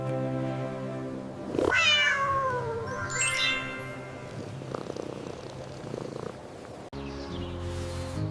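A cat lets out two rising meows over a continuous low purr, close and clear, with a brief break before the purring resumes.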